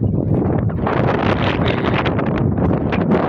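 Wind buffets the microphone outdoors in a village, making a loud, continuous rumbling roar with fluttering gusts throughout.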